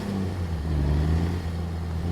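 An International WorkStar truck engine in a video game mod pulls away from a stop, a loud, steady low diesel drone with a slowly rising tone.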